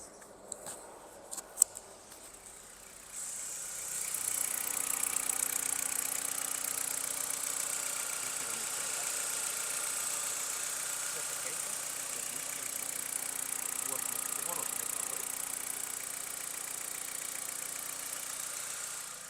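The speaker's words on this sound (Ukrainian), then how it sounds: "Покажу вам зараз, як працює двигун" A 2016 Dodge Journey crossover's engine idles steadily with an even, constant hum and a faint high whine, after a few brief knocks and clicks at the start.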